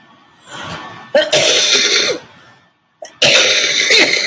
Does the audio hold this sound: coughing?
yes